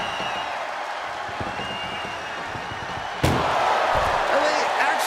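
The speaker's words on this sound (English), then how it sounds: "Doing their best just to shut that first door." A single heavy slam of an ambulance door cuts through a roaring arena crowd at a WWE SmackDown ambulance match, with the crowd noise swelling afterward.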